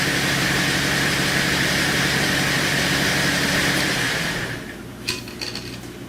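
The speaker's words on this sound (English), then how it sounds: "I don't want to leave that vehicle running." A 2007 Saturn Outlook engine idles with a steady, loud mechanical hum and whine that drops off toward the end, followed by a few faint clicks.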